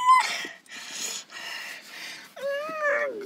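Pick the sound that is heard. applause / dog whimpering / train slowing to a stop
dog whimpering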